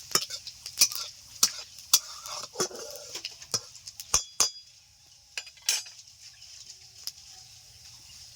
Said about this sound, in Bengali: দিয়ে দিচ্ছি সরিষার তেল দিয়ে দিচ্ছি পাঁচফোড়ন